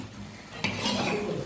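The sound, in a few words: shrimp being stir-fried (bhuna) in a pan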